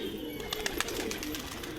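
A group of kept pigeons coos in a low, continuous throaty murmur, with a few light clicks and rustles scattered over it, close by and without voices.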